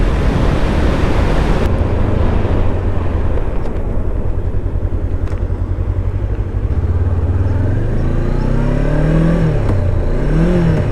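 Honda CB500X motorcycle riding on a Scottish coastal road, steady loud engine drone under heavy wind rush, with rising revs toward the end as it picks up speed.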